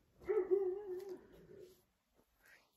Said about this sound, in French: vous devez entendre mon chien qui aboie